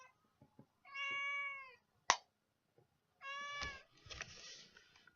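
A house cat meows indoors: two drawn-out, fairly loud meows separated by a sharp knock, followed by softer rustling and a few faint clicks.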